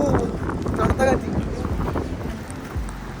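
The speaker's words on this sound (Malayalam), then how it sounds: "അയ്യോ, തണുത്ത കാറ്റ്." Cold wind gusts at Milford Sound in New Zealand's fiordland, buffeting the microphone in a steady, rough rush with a stronger burst near the start and faint voices underneath.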